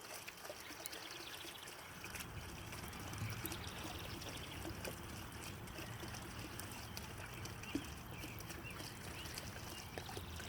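Cold water pours steadily into a two-gallon glass fermenting bottle to top up mead, a continuous close trickling and gurgling stream with no voices.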